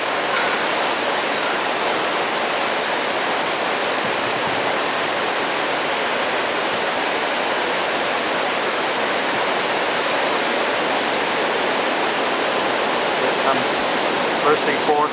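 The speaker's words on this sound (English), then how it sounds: "When he starts cranking those open, you'll see the water start pouring out." Water pouring from opened river lock valves on the Ohio River, a steady, dense rushing roar that holds constant without break throughout.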